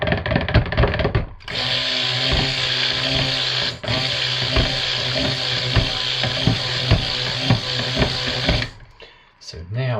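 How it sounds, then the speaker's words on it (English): Stick blender whirring steadily through a batch of lemon verbena cold process soap, a loud continuous motor hum that starts abruptly, runs for several seconds with one brief pause, and cuts off near the end. "So now it's had a proper stick blending."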